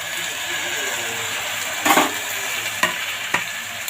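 Onion, tomato, ginger and garlic sautéing with salt in a pan make a loud, steady sizzle, broken by three distinct clunks of the spatula against the pan.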